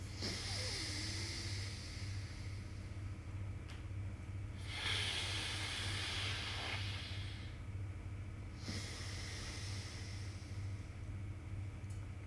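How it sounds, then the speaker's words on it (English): Alternate nostril breathing during yoga: two slow, soft exhalations through the left nostril, each a faint airy hiss lasting a couple of seconds, over a low steady hum. "Continue with the right nostril only. Exhale from the left."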